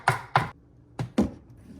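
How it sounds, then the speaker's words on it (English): Four sharp knife chops on a cutting board during meal prep, two quick strikes, a pause, then two more, close and fairly loud with nothing else heard. "Y'all probably hear me chopping up a storm."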